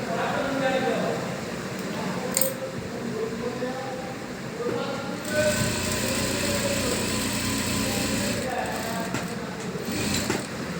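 A sewing machine runs while back-stitching the elastic waistband of a salwar, a steady mechanical whirring and buzzing that continues for several seconds at close range with small shifts in pitch.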